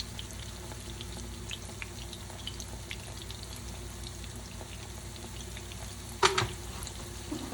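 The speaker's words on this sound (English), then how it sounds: "Frying plantain" Ripe yellow plantain slices fry in hot oil in a pan, giving a steady, even crackling sizzle throughout with faint pops, plus one brief sharp clatter near the end.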